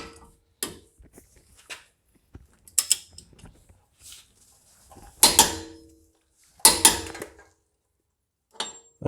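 Ratcheting torque wrench tightening a front wheel bearing nut on a Ford Mustang to 221 foot-pounds, heard as a few separate creaking clicks and mechanical strains with quiet gaps between them, close up.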